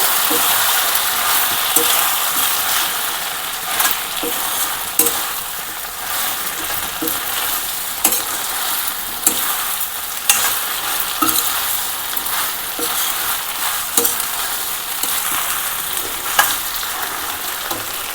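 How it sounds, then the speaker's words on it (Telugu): Okra frying in a pan for a prawn curry, stirred steadily with a utensil: continuous loud sizzling with repeated scraping clicks and taps against the pan, close up and without talk. "ఇవన్నీ వేసేసిన తర్వాత ఒకసారి ఇలా బాగా కలిపేసుకోవాలి."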